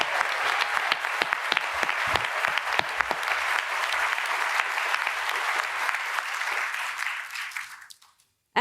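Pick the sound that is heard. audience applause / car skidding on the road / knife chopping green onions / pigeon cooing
audience applause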